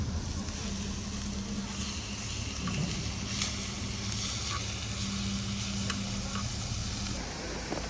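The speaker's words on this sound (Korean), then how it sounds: "맛있는 김치를 김치를 한번 구워보도록 하겠습니다" Kimchi sizzling on a grill outdoors at a camping-style meal, a steady close crackling fry with a low hum underneath and a few soft clinks, no talking.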